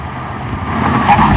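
A Ford Mustang V8 car engine in a rolling race against a Toyota Supra, a loud roaring rumble that builds steadily in intensity over a second and a half.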